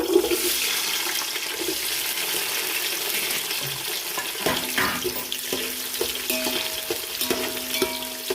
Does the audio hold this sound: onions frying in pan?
yes